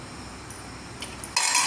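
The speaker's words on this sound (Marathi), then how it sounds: "व्यवस्थित मिक्स करून घेऊया।" A spoon stirs shrikhand with almonds and charoli in a bowl, giving a few light clinks against the side before a louder scraping rush at the end.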